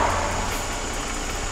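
Mercedes-Benz E300 Elegance engine idling steadily with the hood open, a constant close low hum with no revving.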